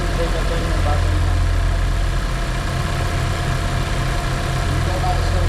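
Car engine idling steadily after a cold start in a Canadian winter, a continuous low rumble close by with no changes in pace; no speech is heard over it.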